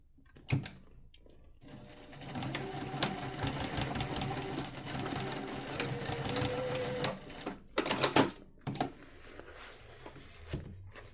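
A sewing machine stitches a strap onto a handmade bucket bag, a close run of rapid whirring stitches between brief handling clicks and thumps, with short stops at the start and end.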